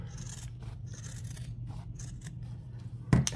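Scissors cut fabric around an embroidered in-the-hoop zippered bag design, making soft repeated snipping and scraping strokes up close, with a louder handling clatter at the end.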